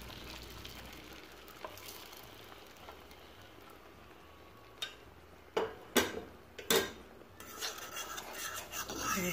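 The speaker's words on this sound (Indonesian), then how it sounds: "Sekarang ini telurnya mau diurak-arik dulu, digoreng ya teman-teman ya." Eggs are scrambled in oil in a pan, crackling faintly at first, then several sharp spatula knocks and a louder, busier sizzle toward the end, with no one talking.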